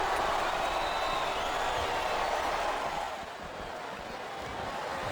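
A WrestleMania 23 crowd in the wrestling video game SmackDown vs Raw 2008 roars steadily for the Undertaker vs Batista match, a dense cheering wash that dips slightly past the midpoint before swelling again.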